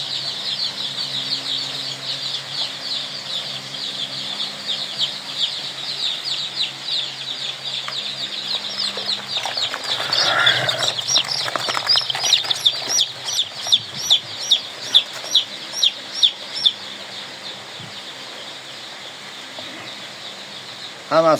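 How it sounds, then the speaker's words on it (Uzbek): Poultry chicks on a farm cheep and cluck steadily at close range, with a run of evenly spaced louder calls near the end and faint background noise throughout. "Jo'jalarimiz rosa suv solib turishibdi."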